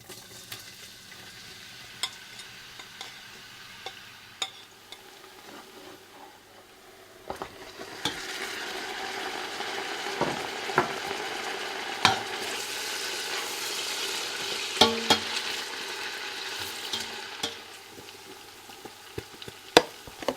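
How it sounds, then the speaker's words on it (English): Onions dropped into 250 millilitres of hot sesame oil for Kabuli palau, a soft sizzle swelling into a louder, sustained fry with scattered clinks and stirring knocks close by. "I'm adding the onions."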